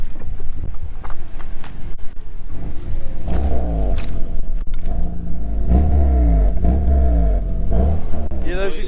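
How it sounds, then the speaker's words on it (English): A Daihatsu Copen with a swapped engine revs through its exhaust pipes in a string of loud, rising bursts, under wind buffeting on the microphone and someone talking over it. "You hear those exhaust pipes?"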